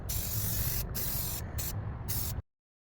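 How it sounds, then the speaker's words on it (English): Rust-Oleum flat black spray primer sprayed onto a studio-scale mine cart chase model, heard as a close, loud hiss in several short bursts that end abruptly, with no talking. "I begin by applying a thick coat of primer along the trench, ensuring every area is thoroughly covered."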